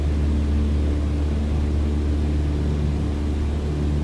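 A light aircraft engine holds steady at its 2200 RPM cruise setting in a flight simulator, a constant droning hum with low throbbing tones and broadband rush, unbroken and even throughout with no voices.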